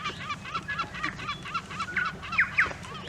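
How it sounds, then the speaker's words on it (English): A seagull calling along the coastal Abel Tasman Track in New Zealand, giving a quick run of short, nasal, honking cries at moderate distance over a soft, steady background. "That's a seagull."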